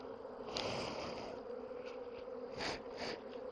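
Steady buzzing from many honeybees at an open hive fills the clip, a continuous droning hum with a few louder swells as bees pass close.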